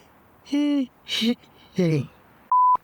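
A phone call to a sales office ends in one short, steady electronic beep. A few brief bursts of talk come just before it.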